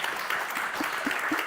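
Audience applause during a session at an energy security conference in a pavilion, a steady dense patter of many hands clapping throughout, moderately loud.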